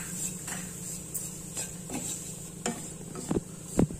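Grated coconut roasting in a kadai gives a faint, steady dry sizzle, with a few soft scrapes and two louder clanks of a spatula stirring near the end, close and without speech.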